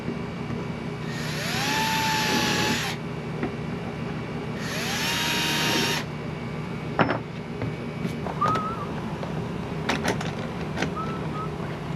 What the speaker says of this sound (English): So now I just got to drill holes and mount them up.